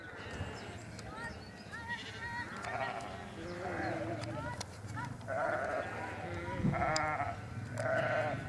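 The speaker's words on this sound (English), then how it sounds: "Moving the sheep from field to field" Sheep bleat repeatedly as a flock is moved from one field to another along a quiet country road, several overlapping calls near and farther off, with a person speaking at times.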